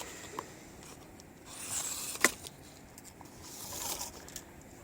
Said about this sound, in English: And then I take this tape measure